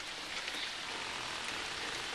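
Steady rain falls outside, a continuous soft hiss of drops on surfaces with no break in level, faint and even throughout, with no voices.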